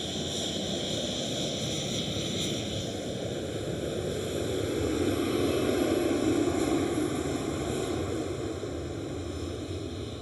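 Transavia airliner in Sunweb livery at Amsterdam Schiphol, departing from runway 18 left: a steady broad roar of jet engines, moderately distant, swelling slightly mid-way before easing, with no talk.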